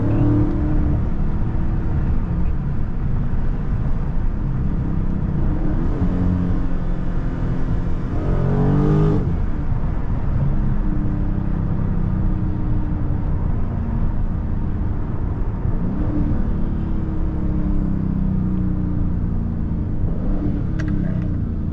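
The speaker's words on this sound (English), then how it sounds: "I know y'all hear this engine, bro. This thing sounds so loud today." A loud Dodge Scat Pack car engine rumbles continuously up close, a deep steady drone with occasional rises in revs over a long stretch.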